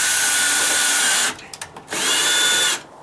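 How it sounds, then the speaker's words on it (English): A power drill drives a 1-inch pointed screw to start a pilot hole less than a quarter inch deep, whining loudly and steadily, pausing with a few short bursts, then running again before stopping. "I could take my 1-inch screw, because they're a little pointier than these, 1/2 inch. I could start it."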